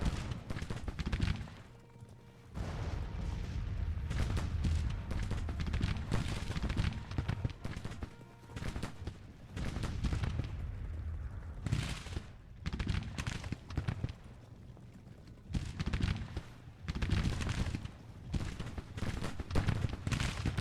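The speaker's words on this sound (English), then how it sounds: "We have now arrived to give some flanking fire," Musket volleys and artillery fire in a Civil War strategy game at the Battle of Glorieta Pass, sharp bursts of gunfire crackling in irregular clusters with brief lulls, steady distant battle noise beneath.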